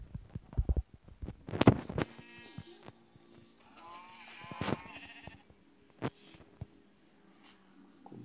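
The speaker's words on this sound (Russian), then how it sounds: "Ой, коричневая овца." Bleating from a brown sheep in a Minecraft-style survival game, heard in a few short calls among clicks and game sounds, with no talk over it.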